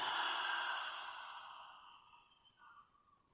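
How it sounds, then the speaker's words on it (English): One slow, deep breath drawn during a gentle guided stretching session, airy and close, fading gradually over a few seconds in an otherwise quiet room. "Breathing in."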